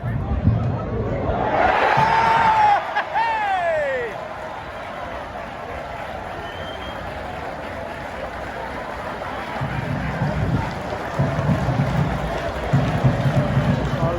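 A football crowd at a National League match erupts as Yeovil score, a loud swelling roar and cheer in the first few seconds that fades into open-air murmur and babble, with talk over it.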